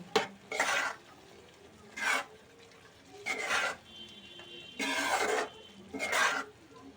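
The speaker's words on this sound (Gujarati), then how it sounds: "હવે એને આપણે હલાવીશું" Boiled eggs being stirred into curry gravy in a pan, producing six distinct bursts of scraping and stirring, close and moderately loud, with quiet gaps between strokes.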